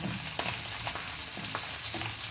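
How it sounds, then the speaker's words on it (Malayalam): A generous handful of curry leaves crackle and spit in hot oil in a pan, a dense, loud sizzle with a few sharper pops. "കുറേ കൂടുതൽ കറിവേപ്പില അങ്ങോട്ടിടാം"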